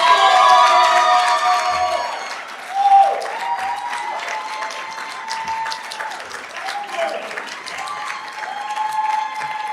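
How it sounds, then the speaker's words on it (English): An audience at the 2025 Penn State Three Minute Thesis Competition gives an award recipient a sustained round of applause, with whoops and cheers rising above the clapping and voices calling out throughout. "That's a great round of applause."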